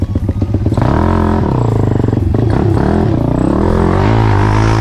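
Honda XRM 175cc enduro-type motorcycle climbing a steep uphill trail, loud close engine popping at first then revving hard and rising in pitch with fluctuating throttle and clattering over rough ground.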